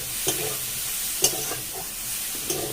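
Taro roots sautéing in a pan for a vegetarian dish, a steady close sizzle with a few sharp utensil scrapes and stirring knocks, no voices.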